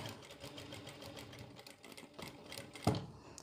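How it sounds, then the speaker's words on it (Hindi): Sewing machine stitching a strip of lace for a neck design, a steady fast mechanical whir running throughout at close range, with a brief louder thump near the end. "यहाँ पे हम लगा देते हैं सिलाई"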